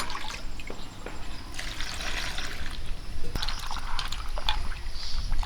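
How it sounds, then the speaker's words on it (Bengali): Hollowed pointed gourds (parwal) washed in water for an egg-stuffed recipe, giving close, continuous splashing and trickling with clattering knocks, no talk. "পটলগুলো এখন ধুয়ে নেব জল দিয়ে পরিষ্কার করে ধুয়ে নেব"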